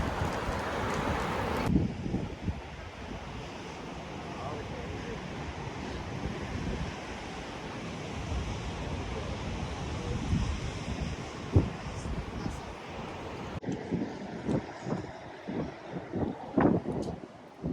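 Ocean surf breaks along a beach at Newcastle in strong wind. Gusts buffet the microphone over a continuous wash of waves, with heavier crashes and thumps toward the end.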